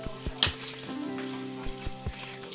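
Chicken legs fry in hot oil with a continuous crackling sizzle, broken by a few sharp pops and knocks close by; no one talks.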